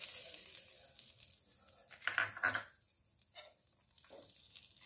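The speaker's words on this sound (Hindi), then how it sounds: "अब साग में हम तड़का लगा देते हैं ऊपर से इस तरह से।" Homemade butter tadka sizzles as it is poured over cooked saag, a hissing frying sound that flares sharply midway with a few clinks of the pan, then fades to quieter crackle.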